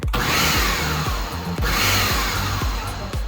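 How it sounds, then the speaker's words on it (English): A kitchen blender pulses tomatoes for a pasta sauce, its loud motor whirring in two bursts separated by a brief stop, with a rhythmic thumping churn of the chopping tomatoes throughout. "I'm gonna go ahead and use my blender and just give it a couple of pulses"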